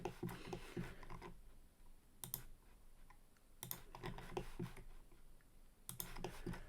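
Computer mouse and keyboard clicks while drafting in ArchiCAD, sharp clusters of clicks in three bursts separated by quieter stretches, close and crisp.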